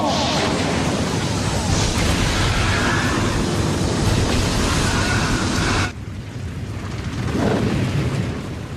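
An anime fire-style flame bomb jutsu erupts in a loud, roaring blast that rumbles continuously for about six seconds, then drops into a softer fiery rush with a brief swell near the end.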